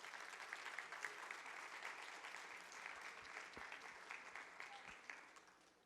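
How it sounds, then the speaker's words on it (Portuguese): Church congregation applauding during a worship service, a full, continuous burst of clapping from many people that carries steadily from start to finish. "Você pode aplaudir o Senhor Jesus?"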